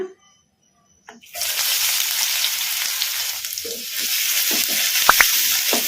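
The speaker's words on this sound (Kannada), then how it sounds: "ಉಳ್ಳಾಗಡ್ಡಿ ಒಂದು ಸ್ವಲ್ಪ ಲೈಟ್ ಗೋಲ್ಡನ್ ಬ್ರೌನ್ ಕಲರ್ ಬರೋವರೆಗೂ ಫ್ರೈ ಮಾಡ್ಕೊಂಬಿಡೋಣ" Finely chopped medium-size onions hit hot oil after a second of silence, bursting into a loud steady sizzle, with a few stirring knocks near the end.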